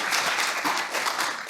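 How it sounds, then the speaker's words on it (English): A conference audience applauds a software engineering presentation with a dense, steady burst of many hands clapping that stays level throughout, with no talking over it. "Another round of applause for Shilin for his presentation."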